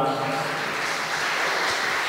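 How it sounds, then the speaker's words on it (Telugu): Applause at a Telugu Christian ministry gathering: a dense, steady wash of many hands clapping fills the whole stretch at an even level, with faint voices mixed in at the start. "చప్పట్లు కొడదామా?"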